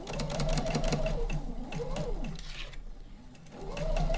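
A sewing machine stitches a quilt seam in quick, rhythmic bursts of mechanical whirring up close. The stitching pauses briefly near the middle and then starts again, with faint speech in the background.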